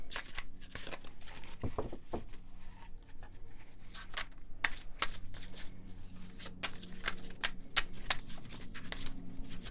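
Oracle cards are shuffled and handled close by, with soft riffling, papery slides and sharp little flicks and taps in an irregular, continuous stream.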